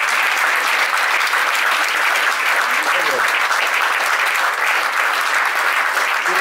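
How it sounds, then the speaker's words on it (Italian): An audience at a folk club in Turin gives sustained, full applause, an even roar of many hands clapping close by with no break throughout. "Un applauso a Margherita."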